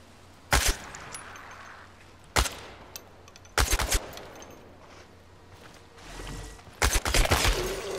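Gunfire in Chernobylite, several short sharp bursts of automatic shots spaced a second or two apart, loud and close over a low quiet background, the last bursts clustered together.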